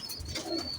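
A pigeon coos softly while feeding: a brief, quiet, low throaty call, heard close but faint, with no talking.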